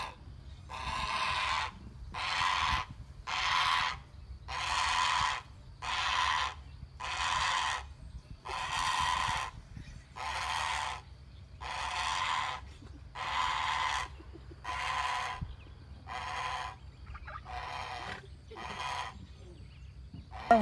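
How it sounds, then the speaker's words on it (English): Many birds call at once in Florida, a steady rhythmic chorus of harsh honking cries rising and falling in regular bursts about once a second, fairly distant and unbroken by talk. "Look at all the birds. It's all these birds here."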